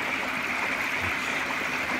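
Water rushes steadily as it flushes debris out through an Easy Pod pond filter being cleaned. The flow is continuous and even, with no speech.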